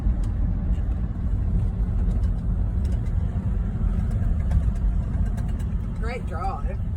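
A car drives along a newly sealed road near Fitzgerald Bay on the Eyre Peninsula, with a steady, close engine and road rumble throughout while people talk inside.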